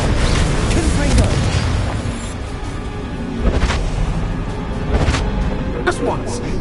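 In Hogwarts Legacy, Confringo blasting spells go off as a few deep, rumbling booms over a dense, constant game soundscape, with voices faintly in the mix.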